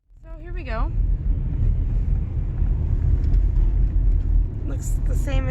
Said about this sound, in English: Just driving in, and we're gonna pull over somewhere